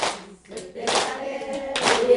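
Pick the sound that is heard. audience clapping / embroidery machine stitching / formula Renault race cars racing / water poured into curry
audience clapping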